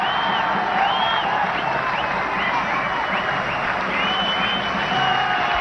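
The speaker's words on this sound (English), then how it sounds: "A very well played 50, acknowledging the crowd's support and cheer" A cricket crowd in 1997 applauds and cheers Aravinda de Silva reaching fifty against Pakistan, steady sustained clapping with whistles and whoops throughout, loud and continuous.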